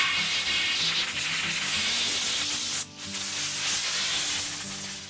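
Compressed air blasts loudly from an air compressor nozzle blowing out a gun barrel and action after corrosive ammo, a steady close hiss with one brief cutoff midway.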